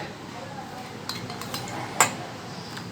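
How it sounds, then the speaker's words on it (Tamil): A spoon stirs palm fruit juice mixed with milk and jelly pieces in a glass, making a few light clinks against the glass with one sharper tap near the end, close and fairly quiet. "இதை நம்ம நல்லா கலக்கி கொடுத்துட்டு நம்ம குடிக்கலாம்"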